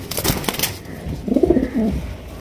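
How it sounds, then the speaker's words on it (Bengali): A racer pigeon at a pigeon sale gives one short, close, low cooing call after a moment of brief rustling. "আগুন চোখের রেসার কবুতর"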